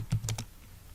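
Quick keystrokes on a computer keyboard as an enable password is entered on a Cisco router, three or four close clicks in a brief burst, then quiet.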